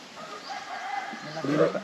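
A chicken gives a few soft clucks against a quiet outdoor background, with a brief louder cluck toward the end.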